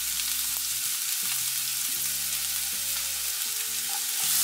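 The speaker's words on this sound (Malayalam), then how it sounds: "ഓയിൽ ചൂടായി വരുമ്പം നമ്മൾ ഇതിലേക്ക് സവാള ഇട്ട് കൊടുക്കുകയാണ്" Chopped onions with salt frying in hot oil in a pan, a steady dense sizzle throughout with occasional stirring scrapes, close and loud.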